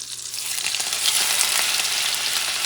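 Scallops sizzle in butter in a pan on medium heat, a dense continuous crackle and hiss that stays close and fairly loud throughout, with no voices.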